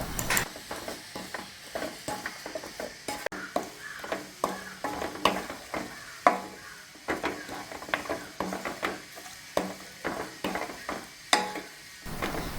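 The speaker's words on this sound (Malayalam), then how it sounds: "ഇനി ഇതെല്ലാം കൂടി നന്നായിട്ടൊന്ന് ഇളക്കി യോജിപ്പിക്കാം" A spoon stirs a sticky mash of ground dates and avil (flattened rice) with jaggery syrup in a pan, giving steady scraping strokes and soft clacks against the metal over a faint sizzle, close with no speech.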